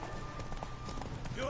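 Horse hooves clip-clop in the video game The Witcher 3 during a race, a brisk run of hoofbeats heard beneath ongoing character dialogue.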